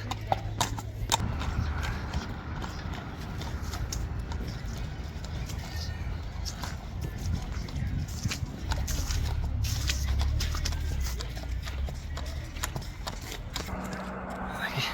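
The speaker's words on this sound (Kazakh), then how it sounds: "Өтө чоң ат." A very large three-to-four-year-old horse, about 1.80 m tall, clip-clops with steady hoof beats outdoors, with voices talking in the background.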